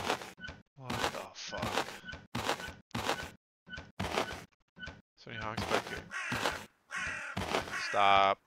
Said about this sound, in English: stop making those fucking crow sounds